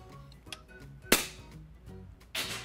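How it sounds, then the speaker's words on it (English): An FX Impact air rifle is cocked with a few light mechanical clicks, then fired with one sharp, loud crack, followed by another burst of cocking noise near the end. "We're going to cock and fire the gun again."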